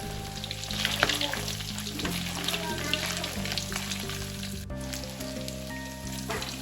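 Fermented pork ribs fry loudly in hot oil, a dense close crackling sizzle with steady bubbling throughout, no one talking.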